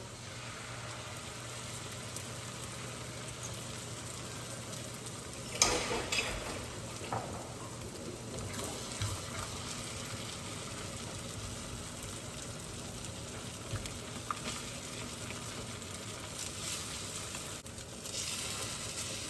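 A frittata mixture of eggs, milk and butter cooking in a pan, giving a steady, soft, rain-like sizzle with a few louder scraping bumps, close and continuous without talking.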